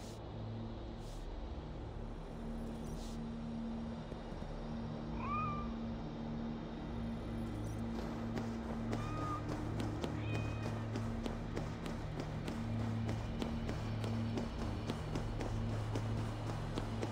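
Cats meow a few times in Assassin's Creed Valhalla, short rising calls that sound moderately near, over a faint steady ambient hum and scattered soft rustles, with no speech.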